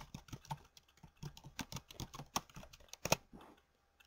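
Rapid keystrokes on a computer keyboard entering a web address, a close, dry run of uneven clicks with a couple of louder key presses before it trails off.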